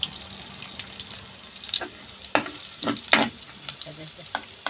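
Garlic and ginger sizzle in a pan for a squid Bicol express. A soft steady fry is broken by sharp spatula scrapes and clinks, with a few louder strokes near the middle.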